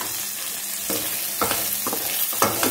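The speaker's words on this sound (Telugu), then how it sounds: "నెక్స్ట్ పచ్చిమిర్చి కట్ చేసుకొని వేసుకుందాం" Chopped green chillies frying in hot oil for tamarind pulihora, a steady close sizzle broken by several sharp scraping stirs of a spoon in the pan, no talking.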